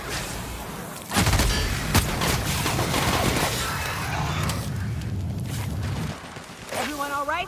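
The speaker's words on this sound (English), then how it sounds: "Ah, it's Mantisaurs again. Very well. Opening fire." Gunfire against Mantisaurs in The Outer Worlds video game: sustained rapid bursts of shots and booming impacts fill the clip, with a voice speaking over the fighting near the end.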